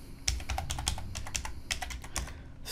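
Someone typing a word on a computer keyboard, a quick run of crisp close key clicks in an uneven rhythm over a faint steady background hum.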